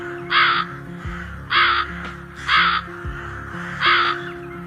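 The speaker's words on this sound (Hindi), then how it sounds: "लोमड़ी की गुफा से जोर जोर से आवाजें आ रही होती हैं कालू कौवे की" A crow gives four loud, harsh caws, evenly spaced and close by, with a low background hum between the calls.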